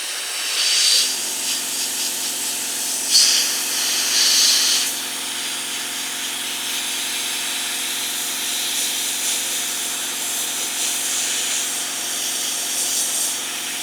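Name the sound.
mini sandblaster blasting with extra compressed air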